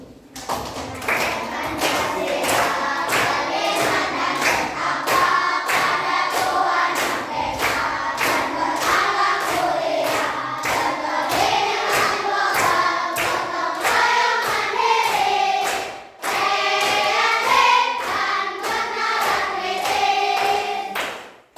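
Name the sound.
schoolchildren clapping in rhythm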